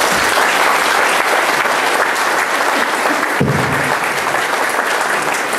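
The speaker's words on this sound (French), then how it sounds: "Je peux les applaudir." Dense, steady audience applause rings out at a lecture event about belief in paradise, loud and continuous from start to finish with no talk over it.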